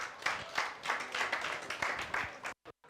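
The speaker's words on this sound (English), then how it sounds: "Let's give him a round of applause." Audience applause at a conference on parenting and AI, a modest burst of scattered clapping from a seated crowd that ends abruptly.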